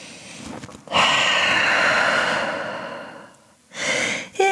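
A long, deep inhale and slow breath held in a downward dog yoga pose, loud and close, rising sharply, sustained for about three seconds, then a shorter breath follows with no speech.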